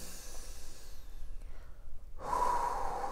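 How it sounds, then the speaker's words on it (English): Close, deep breath taken while seated in a meditation pose, heard as soft breathy air that ends in a sudden fuller, louder intake or release, with no talking. "taking a deep breath."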